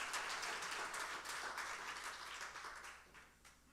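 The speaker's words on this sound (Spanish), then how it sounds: "Dale fuerte el aplauso al Señor." A church congregation claps steadily and enthusiastically for several seconds, a dense patter of applause that slowly fades toward the end.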